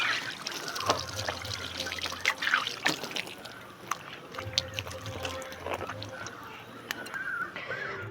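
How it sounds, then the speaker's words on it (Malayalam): Water is poured and trickles while utensils are washed by hand at home, a steady splashing flow with small clinks close by and a voice talking in the background. "വെള്ളം ഒഴിച്ചിട്ട് അങ്ങോട്ട് കഴുകാം"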